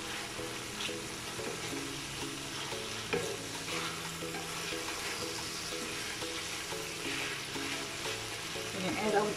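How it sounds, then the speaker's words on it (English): Ginger and garlic paste stirred into a hot pan for masala lamb, with steady sizzling and frying under repeated scraping strokes of a spoon, close and fairly loud throughout. "Now I'm ready to add our ginger and garlic paste. Just gonna mix this in."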